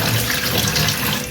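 Hot tap water runs loudly and steadily into a sink while a pig bladder is rinsed clean for cooking octopus, a close, continuous splashing stream with no talk.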